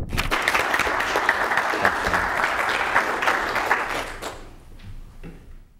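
An audience at a talk on California and climate change applauds steadily for several seconds, dense clapping that thins and fades toward the end, leaving faint scattered claps.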